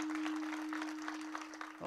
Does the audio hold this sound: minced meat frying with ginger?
no